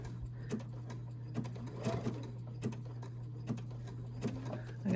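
A domestic sewing machine stitches English paper piecing fabric at a steady, moderately slow speed, its motor humming continuously under soft rhythmic needle clicks, close and fairly quiet with no talking.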